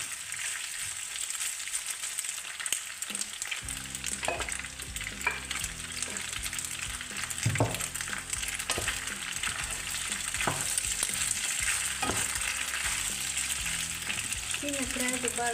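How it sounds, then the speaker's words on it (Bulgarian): Chicken fillet with spicy macaroni and vegetables stirred in a frying pan, steady sizzling throughout with repeated scraping and knocking strokes of the utensil, close and clear, no talking. "Сбъркваме добре."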